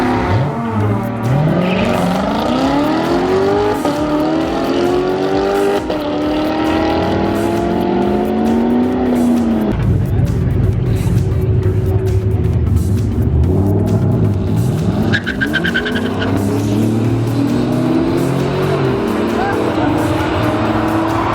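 A 2015 Lamborghini Huracan makes a drag racing run, its engine loud and close as it revs hard, climbs through rising gear pulls with shifts between them, and roars down the strip before easing off, with a voice briefly over it.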